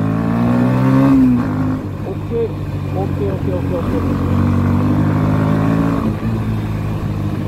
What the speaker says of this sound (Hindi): ये देखो जैसे मैं थ्रॉटल दे रहा हूँ